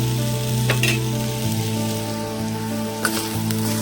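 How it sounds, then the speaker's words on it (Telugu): Steady oily sizzling of thinly cut potatoes frying uncovered over medium heat, with a couple of brief scraping stirs breaking through the continuous crackle. "ఫ్రై చేసుకున్నాం"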